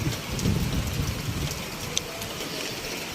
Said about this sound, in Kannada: ಮಸ್ತಾಗಿ ಮಳೆ ಬಂದು ಎಲ್ಲ ಗಿಡ ಮರಗಳಿಗೆ ಮಸ್ತ್ ತಂಪು ನೀಡ್ತೈತಿ